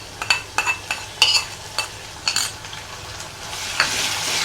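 Onion with ginger-garlic-chilli paste sautéing in a pan, spoon scrapes and stirs in quick bursts over a faint sizzle that swells louder toward the end, close up with no talk.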